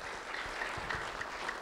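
A small audience gives a brief, soft round of clapping for Debbie Jordan, District 4, at a community event, sounding somewhat distant and thin.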